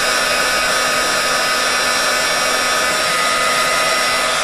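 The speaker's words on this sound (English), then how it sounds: "when you finish heat embossing it" Heat embossing tool blowing steadily over a stamped card, a continuous loud whooshing roar with a faint whine, unbroken for the whole span with no talk.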